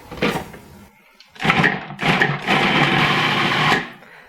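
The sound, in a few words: food processor chopping onion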